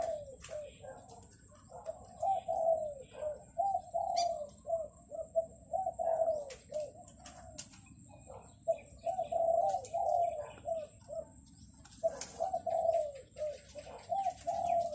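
Spotted doves coo in repeated rhythmic phrases, close and clear, with short pauses between calls and a thin steady high whine in the background.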